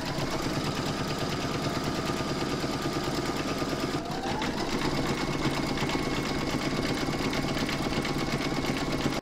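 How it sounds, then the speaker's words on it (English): An embroidery machine stitches the outline of a fabric strap with a loud, fast, steady mechanical whirring and needle chatter, briefly shifting pace midway before running on. "you're going to pop that into your machine and stitch round number three, and that's going to do the outline and stitch down of the strap"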